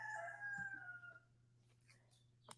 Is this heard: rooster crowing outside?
yes